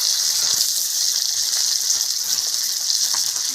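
Water is poured into a hot pan of fried fish with ground turmeric added for a mustard-paste curry, giving a loud, steady hiss and sizzle that runs unbroken throughout.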